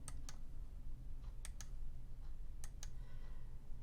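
Computer keyboard keys clicking in small quick pairs and bursts, faint and close, separated by short pauses over quiet room hum.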